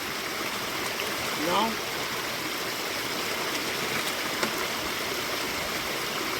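A river section worked for gold mining, its water rushing in a steady, even broadband wash through the whole stretch, with no other clear sounds rising above the flow.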